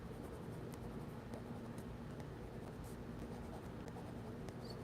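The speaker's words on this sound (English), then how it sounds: "Making squiggly lines here as you see fit, and over the orange, and next to it we will do some beige spirals" A watercolor pencil scratches softly across paper, drawing squiggly lines and spirals in close, continuous, faint strokes with small ticks as the tip lifts and lands.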